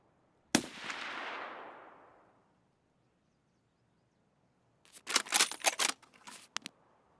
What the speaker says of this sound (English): That might be goons over there fighting with grenades right now.